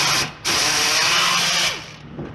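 A power tool whirs loudly in two close bursts while backing out a valve cover bolt on a Subaru engine during head gasket disassembly, the second burst longer before it winds down.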